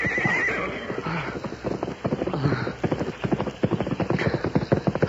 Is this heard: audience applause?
no